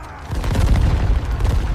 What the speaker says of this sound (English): The cannons thundered relentlessly.